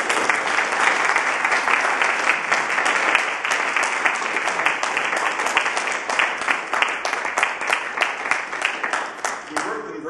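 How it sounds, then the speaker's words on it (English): Conference audience at a rail summit giving sustained applause, dense and even clapping that fills the room for about ten seconds before thinning slightly toward the end. "Let's give them a round of applause."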